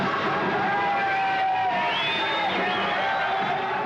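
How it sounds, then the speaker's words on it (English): A crowd of hippies cheers and shouts in a sunny street in the 1960s, a dense continuous roar of voices with whoops rising and falling throughout. "in the street below, a crowd of hippies celebrates the sunny day"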